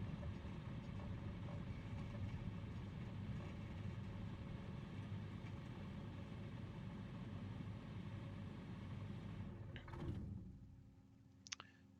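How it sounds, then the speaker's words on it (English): A simulated light aircraft engine idles in Microsoft Flight Simulator 2020 at an Idaho backcountry airstrip, a low continuous droning rumble that cuts off near the end, with no talking. "Okay, we got it idling too low again"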